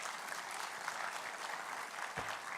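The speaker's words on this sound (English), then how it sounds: "Please give a huge round of applause" A large audience at IIT Roorkee's 175th-anniversary celebration gives the chief guest steady, continuous applause, an even wash of clapping throughout.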